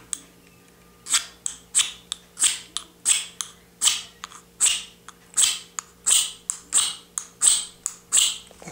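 A striker scrapes a ferro rod again and again, peeling off shavings without sparking. The sharp, rasping strokes come in a steady, close rhythm, about fifteen of them, with no talk.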